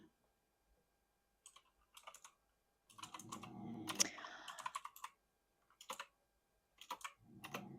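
Computer keyboard typing in an ASMR setting, quiet, with isolated key taps, then a longer denser burst of clatter and a few short clusters of keystrokes, close and soft with no voice.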